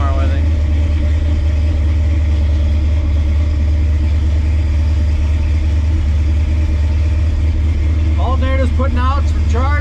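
A 1967-72 Chevy truck engine idles steadily close by, a constant low rumble running the whole time, with a few brief higher tonal sounds near the end.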